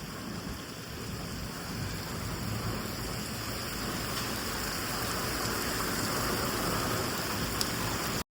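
Heavy rain pours steadily onto a road in a dense, continuous outdoor hiss that holds at an even loudness for the whole stretch, with no voices.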